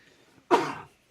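A single short cough from a man, loud and close, standing alone after a quiet stretch with no talk around it.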